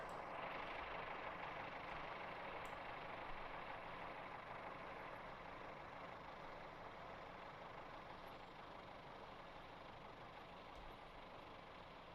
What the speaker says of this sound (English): Gonna just watch the train come in here.